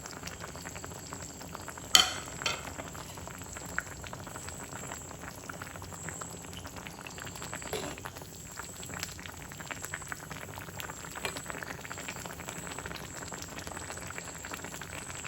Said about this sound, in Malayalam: അങ്ങനെ ഇപ്പോൾ നമ്മളുടെ കറി നന്നായിട്ട് തിളച്ച് വന്നിട്ടുണ്ട്